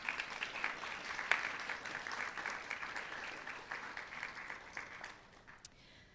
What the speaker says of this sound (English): Candidates, please give your families a round of applause.